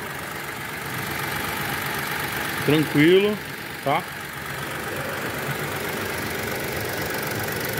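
A 2021 Renault Logan three-cylinder engine idles steadily after a cylinder head repair, a constant low hum close by, with a brief spoken remark over it partway through.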